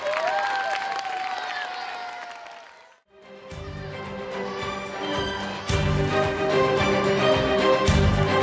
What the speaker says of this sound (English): Let us clap for them also.